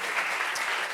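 A studio audience at a French-language talk show applauds, a dense, even burst of clapping that fills the moment without a break.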